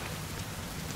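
Steady, dense rain falls in the survival video game The Forest, a continuous close hiss of drops with no gaps and no voices.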